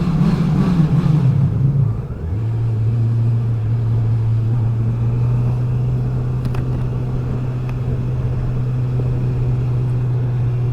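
A Honda CB650R motorcycle, black, in a 35 kW A2-restricted version, rumbles through a small tunnel, its steady low engine drone holding close and loud after a brief dip in pitch.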